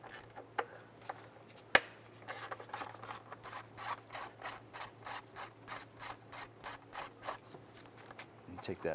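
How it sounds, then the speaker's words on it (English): A 10mm socket ratchet loosening a bolt on a 2005-2010 Jeep Grand Cherokee engine, giving a steady run of rapid clicking ratchet strokes, close and distinct, after a few isolated knocks. "Now using a 10mm socket, we want to go ahead and remove this bolt right here."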